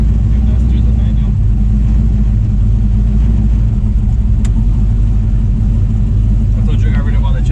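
A turbocharged Chevy OBS truck engine drones loud and low from inside the cab, a steady heavy rumble with faint voices underneath.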